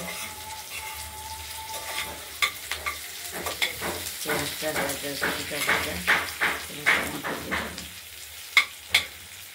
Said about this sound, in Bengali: পেঁয়াজটাকে আমরা ভালো করে ভেজে নেব।